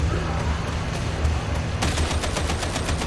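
Rapid gunfire in the Warhammer 40,000: Darktide video game, a dense continuous barrage that grows into a sharper, fast repeating burst near the end, loud and up close.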